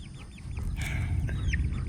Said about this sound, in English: Several of the chickens got away.